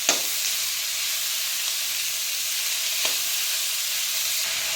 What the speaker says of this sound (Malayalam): ഇനി ചെറുതായിട്ടൊന്ന് ഒരു ബ്രൗൺ കളർ ആവുന്നത് വരെ നമുക്കിതൊന്ന് വറുത്തെടുക്കാം